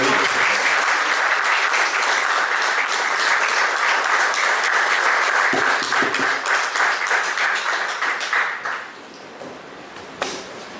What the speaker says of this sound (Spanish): Recibamos con un fuerte aplauso, caluroso aplauso a don Jorge Pinto Rodríguez.